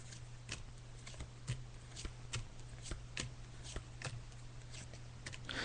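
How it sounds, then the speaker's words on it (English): A deck of cards being shuffled by hand for a psychic card reading, with a steady hiss of riffling and sharp periodic snaps as the cards are bridged and squared, close and alone. "I'm just shuffling the cards now"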